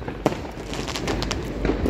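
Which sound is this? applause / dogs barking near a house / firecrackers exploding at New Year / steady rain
firecrackers exploding at New Year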